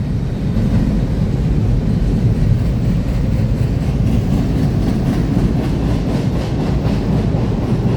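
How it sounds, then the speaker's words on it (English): A CSX freight train passing close by, a loud continuous rumble of railcars with rhythmic wheel clatter on the rails, steady for the whole stretch with no talking. "The symbol for this train is the CSX I142, coming from the Osborne Yard in Louisville, Kentucky, heading north to Walbridge, Ohio."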